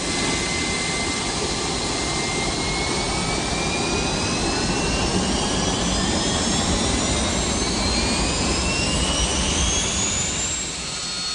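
Aircraft jet engine roaring steadily and loudly for several seconds, a dense broadband rush with slowly rising whine tones, no voices.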